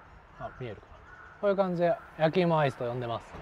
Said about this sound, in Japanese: すごい鳥が鳴いてるな